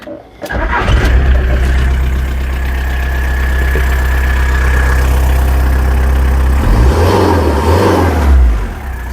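A car engine cranks and catches, then settles into a steady, loud idle with a low rumble, briefly revving near the end.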